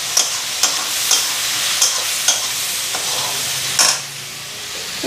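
Ground cumin and coriander powder fry in a hot pan, a steady close sizzle punctuated by several sharp stirring scrapes and taps, with no voices.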